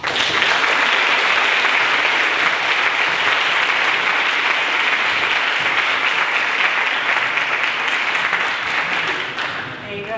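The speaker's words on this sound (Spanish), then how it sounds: "un forte aplauso a Coca Rivas" Sustained audience applause welcoming a speaker at a talk on digital public service design, a dense, steady roar of many hands clapping throughout that fades slightly at the end.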